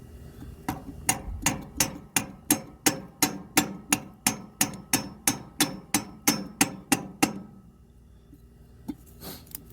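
A hammer taps an oil filter into place on a Ferguson 35 tractor: about seventeen even, sharp metallic knocks in a steady rhythm, close and loud, then a quiet pause with a faint clink at the end.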